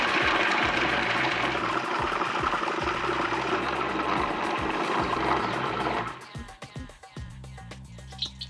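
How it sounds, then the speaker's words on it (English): A kitchen blender whirs steadily as it purees a fiery chili paste for chili mud crab, a loud continuous motor drone for about six seconds before it cuts off and the blade winds down into quieter rattling. "So blend this for about 30 seconds."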